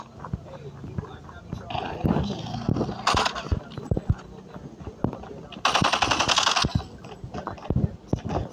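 Rapid machine gun bursts in a video game, sharp repeated shots in clusters with louder dense volleys near the middle and later, under a quiet voice and game background.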